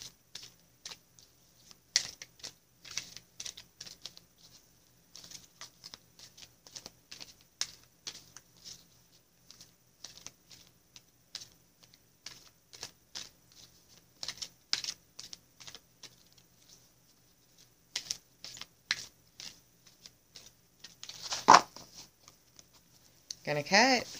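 Sacred Rebels oracle card deck shuffled by hand, rapid soft riffling and tapping bursts scattered across a quiet room, closer and louder near the end, with a voice speaking.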